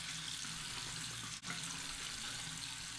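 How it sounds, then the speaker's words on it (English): Hot water runs steadily from a bathroom tap into a sink as a man wets his face before a shave, a constant close hiss with one brief dip partway through and no talking. "now I'll wet my face with some hot water"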